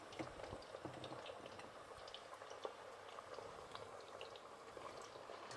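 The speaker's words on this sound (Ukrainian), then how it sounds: "Дивіться, як вона бурлить і вже майже-майже приготувалась." Sliced potatoes frying in hot oil in a pan for country-style potatoes, a steady close bubbling and fine crackling sizzle that runs without pause, with no talk over it.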